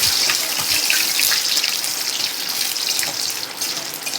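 Bat-shaped papad sizzle while frying in hot oil, a loud, dense, continuous hiss that holds steady from start to finish with no talk.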